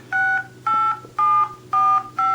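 Key tones from the touchscreen dialer of an HTC HD2 phone: five evenly spaced dual-tone beeps, each about a quarter second long, clear and close with short gaps between them.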